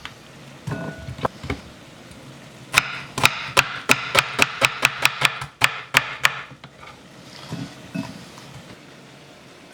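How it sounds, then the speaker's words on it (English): A knife slicing onions on a cutting board during Koshary prep: a few scattered cuts, then a quick, even run of about a dozen crisp chops, with softer handling noises afterward. "So I'm just slicing these up."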